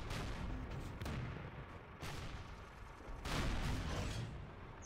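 Gunfire and explosions in the World War II shooter Call of Duty: United Offensive, with tanks nearby: heavy booming blasts and shots over a continuous rumble of battle, fairly quiet overall.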